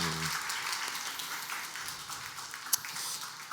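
A church congregation at a Wednesday revival worship service applauds at the end of a term, a steady wash of clapping that fills the room after a brief voice at the start.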